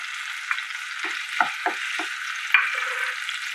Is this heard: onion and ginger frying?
yes